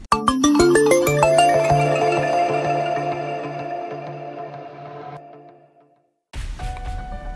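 A bright notification bell rings with quick ascending chimes that blend into a long, fading ring, then cut to silence before another tone begins.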